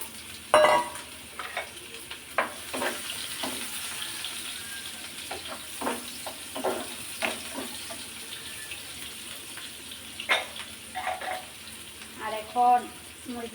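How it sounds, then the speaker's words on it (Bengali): Chopped onions frying in hot oil in a pan, a steady sizzle broken by frequent scraping stirs and clinks, close and fairly loud, with no speech. "তেলটা প্রায় গরম হয়ে গেছে পেঁয়াজ কুচি দিয়ে দিচ্ছিলাম"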